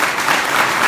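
An audience at a university campus political event applauds, a dense, even wash of clapping filling the whole second at close, loud level.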